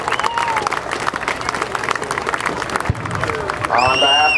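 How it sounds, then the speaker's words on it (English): Crowd applause and some cheering at a naval air station airshow for the F/A-18F Super Hornet maintenance crew, steady clapping over a loudspeaker voice, with a tonal whine rising near the end. "Big round of applause for our maintenance crew"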